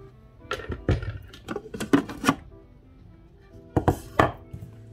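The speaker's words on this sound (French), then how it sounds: "Là, ma pâte, elle va finir de pétrir et on va la débarrasser dans le saladier" A Thermomix kneading sticky cereal bread dough for soft pain de mie, heard as irregular dull thumps and knocks in short clusters with quiet gaps between, no speech.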